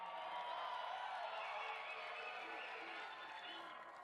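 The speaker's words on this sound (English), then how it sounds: "Hopefully you can hear that applause." A crowd applauds and cheers at an inaugural ball, the sound distant and soft, a continuous blended wash of clapping that fades slightly toward the end.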